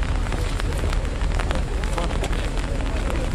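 Rain falls steadily during an outdoor cycling rally gathering in Kyiv, a dense continuous patter and hiss with scattered sharper drops, loud and unbroken throughout.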